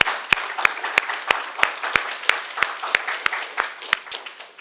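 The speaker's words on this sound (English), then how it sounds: "give them another round of applause" An audience at a press briefing gives JPS students a round of applause: a dense patter of many hands with regular, sharper individual claps punctuating it, close and steady for several seconds without speech.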